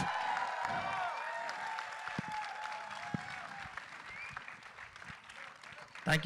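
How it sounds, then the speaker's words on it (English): An audience at a film first-look unveiling event claps for the director, sustained applause under a loud amplified voice, fading slightly toward the end. "Come on everyone, a louder round of applause."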